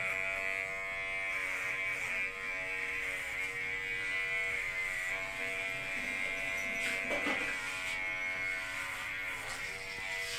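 An electric hair clipper buzzes steadily through a haircut, a close, constant whine with a few brief scraping changes as it moves through the hair, and no voices.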